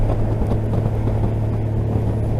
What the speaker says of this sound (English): This one is just basically wind and road noise